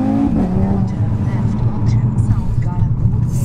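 Stage 2 tuned Audi RS3 with an S-tronic gearbox pulling hard from inside the cabin, its engine note rising steadily through the run while people talk over it.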